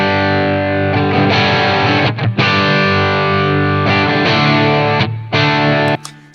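Heavily distorted electric guitar through a Blackstar St. James EL34 amp plugin, miked off-axis, playing sustained high-gain chords and riffs, loud and dense, with brief gaps between phrases and a final cutoff.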